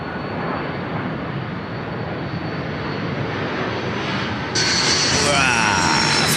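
A Qantas Airbus A330 passes overhead on approach to land at Sydney Airport. Its loud, broad jet roar holds steady, then swells with a brighter whine near the end. No one speaks.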